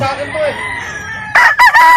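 A rooster crows nearby at a chicken brooder, a loud drawn-out call in two bursts after a quieter stretch of faint clucking and background noise.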